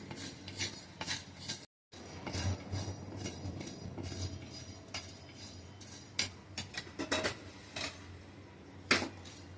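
Coriander seeds roast in a pan over a low flame, with light rattling and scattered clicks of seeds and utensil against metal over a faint steady background, quiet and irregular, with a short gap early on.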